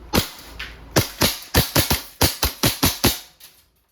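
An EMG Pit Viper gas blowback airsoft pistol in all-black finish fires about eleven sharp, close, loud cracks in quick irregular bursts, each with a short snappy decay and no talking.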